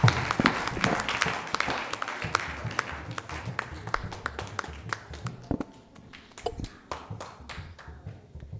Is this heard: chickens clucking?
no